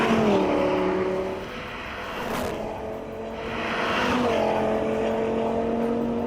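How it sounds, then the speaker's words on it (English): An Audi RS3 sedan with its 2.5-litre five-cylinder engine roars loudly and close, its pitch climbing through gears, dipping, then building again in sustained revving passes with no talk. "Audi revived an engine configuration that served them well in the 80s, the good old 5-cylinder"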